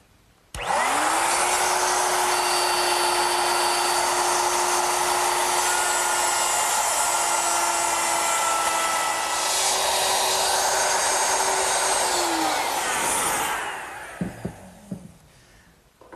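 A router cuts a half-inch dado across wood stock, guided along a block, with a high, loud whine that spins up sharply and holds steady. After about twelve seconds it winds down, followed by a few knocks.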